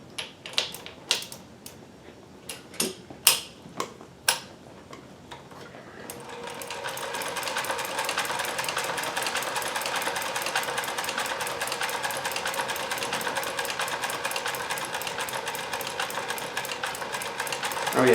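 A Kenmore 158.1040 sewing machine with a Singer zigzag attachment starts up after a few light clicks and runs in a steady, fast mechanical whir, close and loud, sustained to the end.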